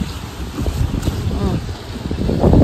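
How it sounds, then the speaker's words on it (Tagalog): Strong wind buffets the microphone outdoors, a continuous low roaring rumble that swells toward the end, with voices talking faintly underneath. "Ay, ang lakas ng hangin."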